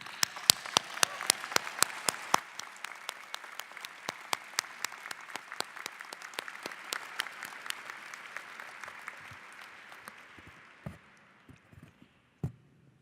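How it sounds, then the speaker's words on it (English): Audience at a 2015 Carlson School MBA graduate commencement ceremony applauding, a loud, sustained burst of clapping with sharp individual claps standing out, thinning and dying away to scattered claps near the end. "you deserve a round of applause right now"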